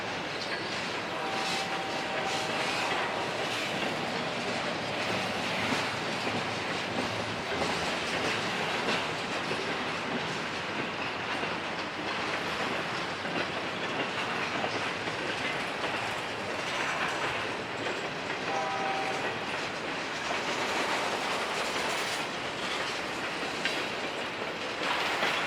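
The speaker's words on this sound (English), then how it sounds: "The horn we're hearing is signaling for the crossing at Churchman Avenue as the train snakes through the area" A CSX or Indiana Railroad train in central Indiana rolls past nearby with steady rumbling and clickety-clack wheels, and a couple of short horn tones for a road crossing sound briefly over the din.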